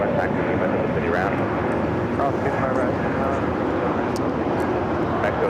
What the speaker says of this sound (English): That's SAS flight 931 coming in from Copenhagen